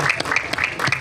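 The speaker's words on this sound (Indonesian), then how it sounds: "tepuk tangan sekali lagi untuk seluruh tim dari film Balada Si Roy" Applause from the audience at a press conference for the Indonesian film Balada Si Roy: a brief, steady patter of many hands clapping at fairly even loudness, with no talk over it.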